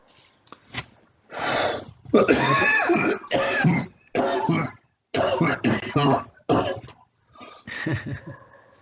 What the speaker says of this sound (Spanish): Recuerden la recomendación que por favor no prendan el micrófono para toser.